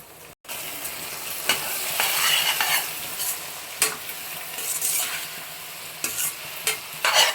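Eggplant and dry fish curry seasoned with chili powder being stirred in a pan, a steady sizzle of frying broken by repeated sharp scrapes of the spoon against the pan, with no talking.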